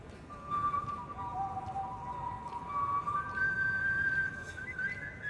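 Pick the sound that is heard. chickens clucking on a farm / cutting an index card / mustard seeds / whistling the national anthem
whistling the national anthem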